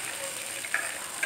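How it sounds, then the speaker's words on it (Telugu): Chopped green chillies and ginger sizzle in hot oil in a pan, a soft steady frying hiss with a couple of faint pops. "ఇవి బాగా వేగనిద్దాం."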